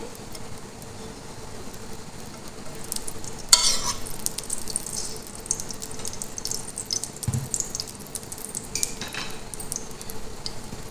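Ghee for mandi rice, with cinnamon, cardamom and bay leaf nearby, heats in a pan with a low steady sizzle, punctuated by a sharp spoon clink and a few utensil scrapes, close and without talk.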